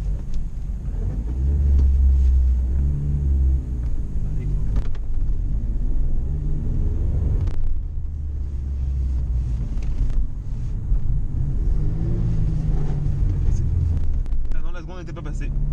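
A Ford Sierra RS Cosworth driven on a road, its engine a low steady rumble with shifting revs and wind noise, heard from inside the cabin with someone talking over it throughout.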